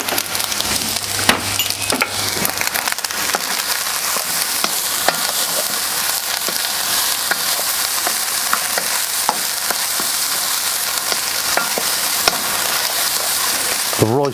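Egg fried rice seasoned with dark soy, salt, MSG and white pepper stir-fried in a wok on a Kamado Joe grill, a steady loud sizzle with scraping and tossing clicks throughout, no talking.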